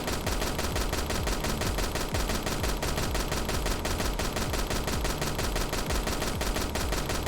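Continuous rapid gunfire from a video game, dense and loud, with bursts running without pause for the whole stretch and no talking.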